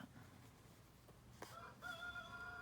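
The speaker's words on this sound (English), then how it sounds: "Well, now we got the rooster wanting to join us." A rooster crows once, faint and somewhat distant, rising clearly above a quiet indoor background with no talking during the call.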